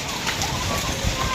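Hailstones fall with heavy rain, making a dense, steady, close-up patter and hiss that stays even throughout with no pauses.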